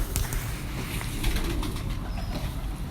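Slate-coloured pigeons coo on a rooftop, soft low throaty calls repeating close by over a constant outdoor hum, with a few brief flutters and no one speaking.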